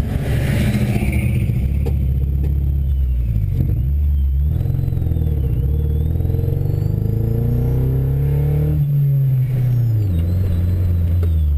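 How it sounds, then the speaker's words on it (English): A car engine built entirely from plasticine revs up and down in repeated surges, with rising and falling engine tones and rough, clattering pops of backfire cutting through. Loud and close throughout, with no voices. "she's backfiring pretty good"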